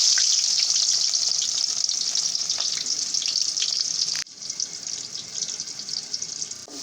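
Chopped onion frying in half a cup of oil until browned, a steady close hiss of sizzling that dips sharply in loudness midway and then continues, with no voices.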